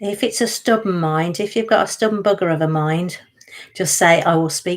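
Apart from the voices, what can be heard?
No distinct noise like a dog, phone or traffic.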